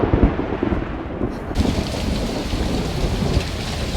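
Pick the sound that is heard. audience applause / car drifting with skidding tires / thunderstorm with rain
thunderstorm with rain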